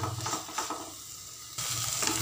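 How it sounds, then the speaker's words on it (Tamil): Mint and tomato chutney, made without onion or coconut, sizzles in a pan while being stirred, a continuous close frying hiss with soft scraping strokes and a brief dip midway. "இதை ஒரு 2 நிமிஷம் அப்படியே கிளறி விடலாம்"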